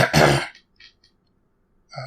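A single short, throaty cough, close and fairly loud, followed by quiet and a faint breath.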